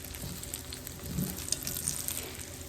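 Bread coated in egg fries in a pan for savory Indian-style French toast, a soft steady sizzle with a few faint crackles and no talking.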